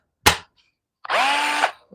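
A Milwaukee M12 Fuel cordless drill gives a quick trigger blip, then runs in a loud, close, high whir for about half a second before spinning down.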